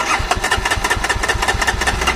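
A Jawa Perak motorcycle engine, running on its last fuel, starts and settles into a fast, even single-cylinder thumping, loud and close throughout.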